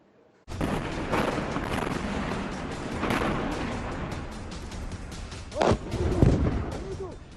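Israeli artillery shelling along the Lebanon border, heard as a sustained rumbling roar of distant fire with a sharper boom near the end, continuous and fairly loud.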